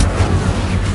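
A fire spell cast in the Hogwarts Legacy video game: a brief, loud burst of dense rushing noise with a low rumbling body, held steady for about a second with no voices.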